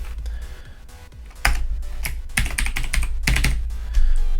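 Close computer-keyboard typing in quick uneven bursts, with clustered key clicks growing louder toward the end, with no voices.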